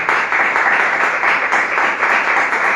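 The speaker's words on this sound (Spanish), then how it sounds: "Un aplauso a Dios, hermano." A church congregation applauds for God after a sermon, a dense, steady wash of clapping filling the space at an even level throughout with no voices standing out.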